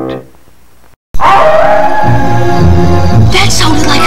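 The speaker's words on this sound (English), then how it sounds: "Did you hear a wolf?" A wolf howl rises in a breakfast cereal commercial, a long sustained wavering tone emerging after a brief silence, loud and close, with music and other effects building beneath it.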